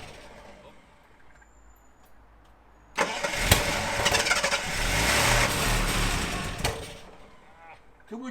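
A 1978 Jaguar XJ6 barn find, started for the first time in 24 years, cranks and catches after a quiet spell, then revs hard and rough for several seconds before dropping back to a lower idle.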